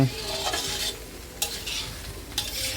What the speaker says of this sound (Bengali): দেখতে পাচ্ছ ফ্রাইড রাইস ভাজা হচ্ছে